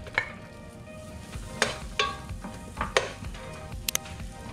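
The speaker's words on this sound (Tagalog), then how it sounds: "So hintayin lang natin unti-unting ma-melt itong mga butter na to." Butter melts in a hot pan for garlic butter shrimp, sizzling and crackling steadily up close, broken by several sharp scraping stirs of a utensil against the pan.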